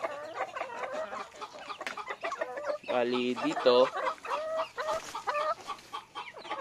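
Pet hens kept at a rural Philippine home cluck and murmur close by, with a denser burst of clucking midway, while someone speaks over them almost throughout.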